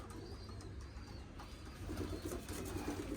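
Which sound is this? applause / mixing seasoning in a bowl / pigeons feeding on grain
pigeons feeding on grain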